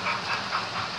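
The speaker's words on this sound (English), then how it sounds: "As the trains go back and forth." Steady hissing rumble of model trains running back and forth on a layout, a continuous whirring drone with faint rhythmic clatter, fairly close.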